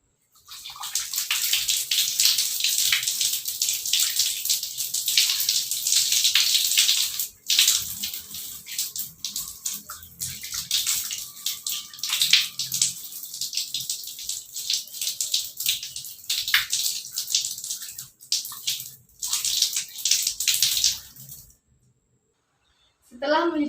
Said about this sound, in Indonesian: kita mencuci tangan dengan menggunakan air mengalir